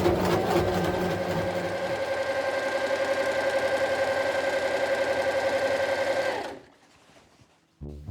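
A sewing machine stitches seams in curtain fabric, running a close, steady rapid mechanical chatter for about six seconds before stopping, then a brief knock.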